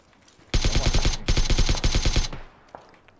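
Rapid automatic gunfire from the battle royale game PUBG (Battlegrounds), two loud sustained bursts of closely spaced shots separated by a brief gap, followed by a faint single pop.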